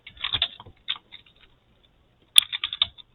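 Bursts of quick keystrokes on a computer keyboard, a flurry of clicks, then a pause with a few scattered taps, then another fast run, close and crisp with no talking.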